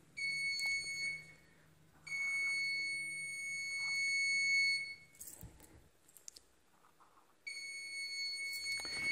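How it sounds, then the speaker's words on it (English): Social distancing beacons placed close together emit a loud, steady high-pitched electronic alarm tone in sustained bursts, stopping and restarting with brief handling noise and quiet gaps between. "so you should see here the beeping going on between the two"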